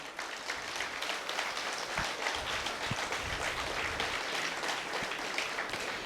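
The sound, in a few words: big applause welcoming guests to the stage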